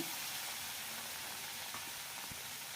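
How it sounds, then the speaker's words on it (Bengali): Hot oil sizzles steadily in a wok as mourala fish fry, a dense, even hiss that carries on without a break and with no voices. "এবার কড়াই বেশ খানিকটা তেল দিয়েছি মোড়লা মাছগুলোকে ভালো করে ভাজতে হবে"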